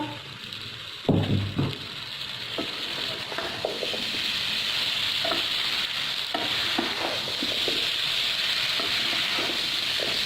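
Potatoes and green bell pepper cooking in masala in a pan, loud clatter as they go in, then a steady hissing sizzle with repeated stirring scrapes, near and without talk.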